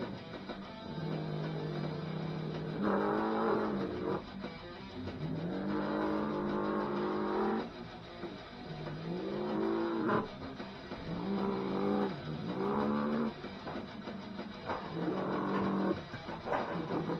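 Engines of monster trucks rumble and rev loudly at a Monster Jam stadium show in Anaheim, with rising and falling pitch in repeated surges, continuous and close over arena noise.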